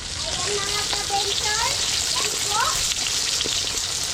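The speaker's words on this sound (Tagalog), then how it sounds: "Ipiprito namin mga ka-adventure." Fish fries in a pan, a steady, rain-like sizzle that sits under talking voices.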